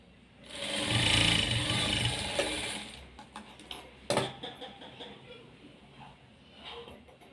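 Sewing machine stitching a blouse lining, a loud whirring burst of stitching followed by scattered clicks and handling knocks as the fabric is adjusted.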